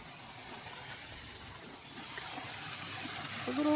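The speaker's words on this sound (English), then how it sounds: "A little waterfall." A small waterfall on a forest hiking trail in a swamp forest gives a soft, steady wash of falling water, faint and distant, growing slightly louder toward the end.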